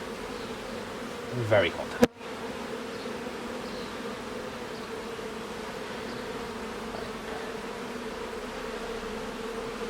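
Honeybees hum steadily around a nuc box during a box change, a continuous low drone filling the whole stretch, with a brief burst of speech and a sharp knock near the start.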